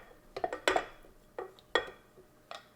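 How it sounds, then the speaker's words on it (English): A spatula scrapes chocolate cupcake batter down the sides of a mixing bowl into egg and oil, giving several short, close scrapes and knocks of varying loudness separated by brief pauses. "Scrape it down."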